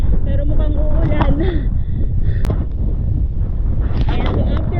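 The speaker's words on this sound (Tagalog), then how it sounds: "Buti na lang mahangin." Steady wind rushing against the microphone, a constant low roar throughout with occasional faint voices and small bumps underneath.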